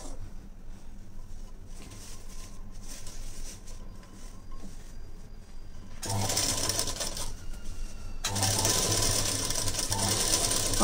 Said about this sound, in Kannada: ಈಗ ನಾನು ಸ್ಟಿಚ್ ಹಾಕ್ಕೊಂಬಂದ್ಬಿಡ್ತೀನಿ.